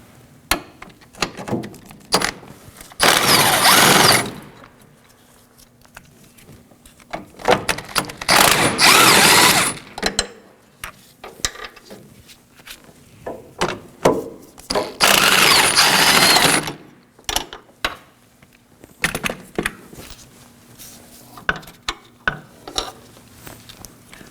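Power tool removing the 16 mm body-side motor mount bolts on a 2013-2019 Nissan Sentra 1.8L, three loud whirring bursts of a few seconds each, separated by quieter clicks and handling noises, no voices.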